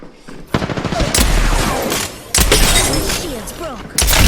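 Loud, dense gunfire in an Apex Legends battle, heavy rapid bursts with sharp impacts and shield-breaking crackle, repeated in three sustained volleys, with voices partly under the din.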